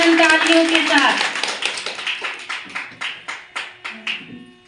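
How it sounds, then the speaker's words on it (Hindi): Audience at a Maharaja Agrasen Jayanti cultural programme in Chandla claps in welcome. A voice speaks at the start, then about eight distinct, evenly spaced clap bursts follow in a steady rhythm, fairly near and moderately loud. "उनका हार्दिक स्वागत अभिनंदन तालियों के साथ"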